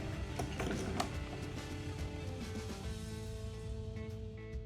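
Workpiece clamped against the fence of a Woodpeckers joinery sled at a table saw, a run of close mechanical clicking and ratcheting with a steady whirring undertone, moderately loud and without talk.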